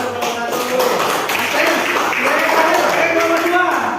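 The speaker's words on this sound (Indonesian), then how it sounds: "tepuk tangan untuk nomor satu" Sustained applause and clapping from a group for the first participant during a coaching session for academic supervision, fairly loud and steady throughout, with voices mixed in.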